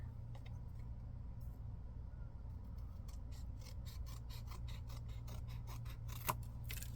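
Paper is being cut with scissors in a quiet room under a steady low hum. The strokes are faint snipping and rasping, growing into a rapid run of crisp cuts toward the end, with no talking.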